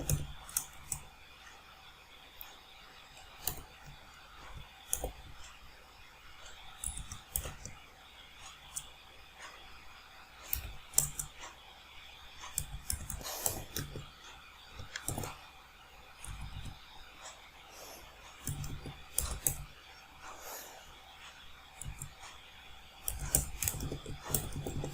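Close computer keyboard keys clatter in irregular bursts and single clicks as Linux commands are typed to install PHP 8, with quiet pauses between runs of keystrokes.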